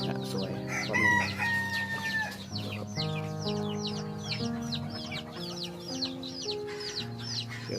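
A hybrid green junglefowl rooster crows over a dense background of other fowl calls and clucking, a long crow standing out near the start amid steady farmyard chatter.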